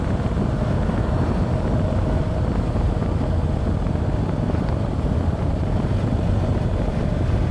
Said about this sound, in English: Oh, the wind, so good.